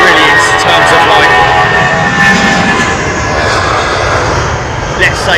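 Jetliner engines spool up at London Heathrow Airport, a loud sustained roar with a whining tone under constant talking.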